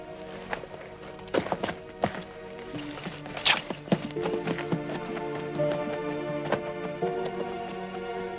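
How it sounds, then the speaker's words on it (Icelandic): A horse walks with uneven clip-clopping hooves, the hoof strikes thudding near and irregular over a sustained musical backdrop, with no talk. "Ég fer að taka hestinum."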